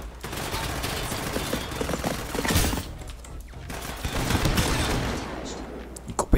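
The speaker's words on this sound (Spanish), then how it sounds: "Escopeta, ¿no?" Shotgun fire in the Off The Grid video game comes as dense, loud bursts of rapid gunfire with blasts and rattles crowding together, dipping briefly before another heavy volley.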